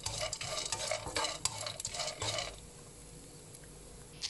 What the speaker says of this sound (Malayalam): ഇഞ്ചിയും വെളുത്തുള്ളിയും നന്നായിട്ട് മൂപ്പിച്ച് വരണം.